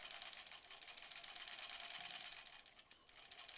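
A sewing machine stitching quilt block seams together, a fast steady whirring chatter up close that slows briefly near the end, with no voices.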